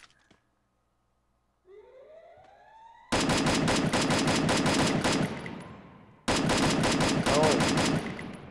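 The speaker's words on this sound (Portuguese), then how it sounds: "Tô ouvindo os tiros, só." Long bursts of rapid automatic gunfire in Free Fire, loud and close, two sustained volleys separated by a brief pause, with a rising whine before.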